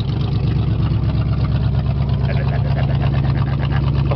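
A truck engine with glass pack exhaust idles with a deep, throaty, steady rumble, heard close and loud, with someone talking over it.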